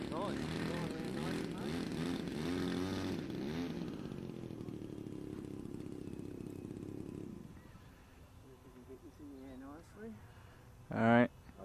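A 12-year-old Maxford USA Gee Bee-E 1500mm electric RC model plane whines loudly as its motor revs hard and sweeps up and down in pitch, then drops away; faint voices follow near the end.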